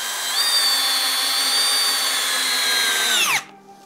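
A Bosch 12V installation drill on speed 1 drives a fastener into wood, a steady high-pitched whine that holds for about three seconds, then winds down abruptly as the motor stops.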